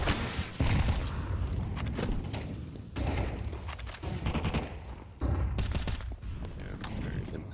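Bursts of FAMAS and MP9 automatic fire crackle in a Counter-Strike 2 match on the Anubis map, loud and close, arriving in several dense rapid volleys with brief gaps and mechanical clatter between them.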